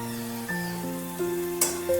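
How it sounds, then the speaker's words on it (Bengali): Cabbage kofta balls fry in hot oil with a light, steady sizzle, accompanied by sustained tonal sounds and a brief sharp clink partway through. "একটু কড়া করে ভাজতে হবে"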